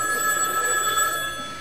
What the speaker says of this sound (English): There's something wrong with that ring.